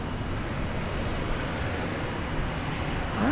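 A US Airways airliner in heritage livery at DFW Airport, its engine roar steady and fairly loud throughout, a broad continuous rumble with no talk.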